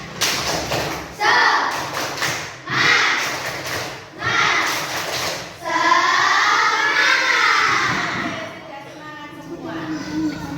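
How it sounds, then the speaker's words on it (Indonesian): A primary school class in an Indonesian classroom performs the 'tepuk semangat' clapping chant: loud bursts of rhythmic group claps in short sets, followed by children's voices chanting and shouting together. "Memulai semangat pagi ini kita mulai dengan tepuk semangat"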